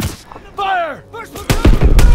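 Gunfire in the World War II shooter Call of Duty WW2: a shouted command, then several heavy, booming shots landing in quick succession at close range.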